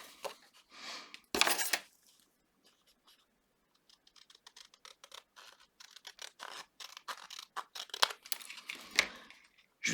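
Scissors cut paper for a pop-up scrapbook album page, with a series of close, crisp snips and slicing strokes in irregular bursts separated by short quiet pauses.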